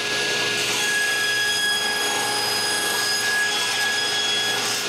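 A saw cuts the top of a small wooden box, giving a continuous, even, fairly loud machine-like rasp with a faint steady whine and no pauses.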